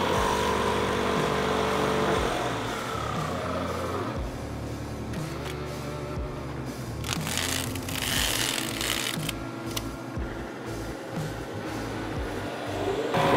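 A Toyota Tacoma drive shaft spinning on a balancer, a steady mechanical whir and hum that holds throughout with rattling, ticking overtones and a slight rise in intensity toward the end.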